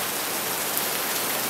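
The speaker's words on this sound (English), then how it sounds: "And we do have some rain, guys." Steady rain falls outdoors in October, a dense, continuous hiss of drops on surfaces with no pauses, fairly close and even throughout.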